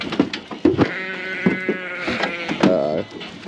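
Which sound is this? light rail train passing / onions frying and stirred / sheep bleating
sheep bleating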